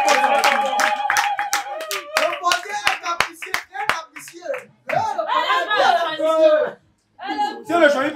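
A small group claps along in quick, uneven bursts at a birthday party in Dubai, the sharp hand claps close and loud at first, then giving way to chatter and children's voices talking over and between them.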